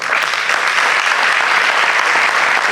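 Loud, dense applause from an audience at a pedagogical conference, a continuous wash of many hands clapping at close range without a break.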